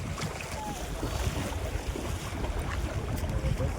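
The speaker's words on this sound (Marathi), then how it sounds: "पप्पा बोट घेऊन आलेला आहे" Fishing boat approaching on open sea water, a broad continuous wash of engine rumble, waves and wind at moderate loudness, with no talk.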